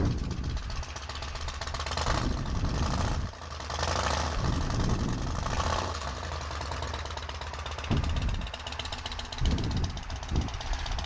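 A 2015 Yamaha Star Raider 1900 cruiser motorcycle with a Freedom Performance aftermarket exhaust idles with a deep, lumpy, uneven burble while warming up, heard up close and steady, with occasional throttle swells.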